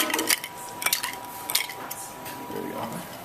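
Ice clinking and scraping against a glass as it is stirred, a few bright chinks standing out over a steady soft swirl, close and moderately quiet with no talking.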